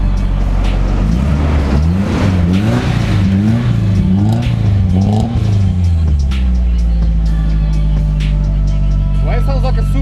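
Nissan SR20 engine in an S13, just brought back to life, running loud and close with several rising and falling revs, then settling to a steady idle, with people talking and cheering over it.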